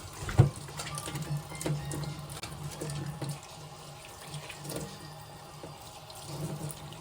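A kitchen tap runs hot water quietly with a soft, steady trickle, a few faint knocks and clatters around the sink.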